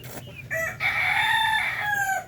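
Ducklings peep nearby, several high chirping calls overlapping in quick, rising notes.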